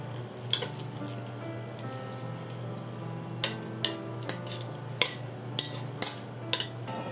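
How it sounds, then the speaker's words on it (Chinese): A spoon clinks and scrapes in a bowl while cooled bamboo shoots are folded into a spicy chili oil sauce, a scattering of sharp taps over a low steady hum. "用汤匙将所有材料翻拌均匀，一直搅拌到酱料完全吃进竹笋里"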